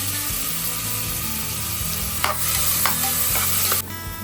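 Onion sizzling in hot oil in a pan while pav bhaji is being cooked, a steady close frying hiss with a few scraping stirs near the end.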